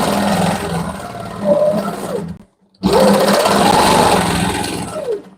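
Longarm quilting machine stitching in the ditch on a panel quilt, a close, humming motor with rising and falling pitch that stops briefly and then resumes.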